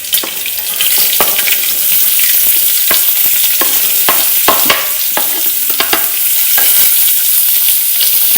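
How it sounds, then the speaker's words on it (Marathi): Onion frying with cumin, ginger, garlic, curry leaves and green chillies in hot oil for dal khichdi. A loud, close sizzle holds steady, cut by frequent sharp scrapes of a spoon stirring the pan. "आता आलं लसूण, कढीपत्ता, आता मिरच्या, आता मी कांदा टाकते."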